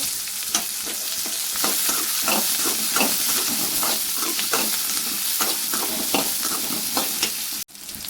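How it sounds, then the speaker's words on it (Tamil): Onions and other vegetables sautéing with dried chillies in a pan, a close, steady sizzle and hiss punctuated by frequent scraping stirs of a spatula, ending in a brief sudden dropout with no talk. "இதெல்லாம் சேர்த்து வதக்கிக்கோங்க காஞ்ச மிளகாய் சேர்த்துக்கோங்க"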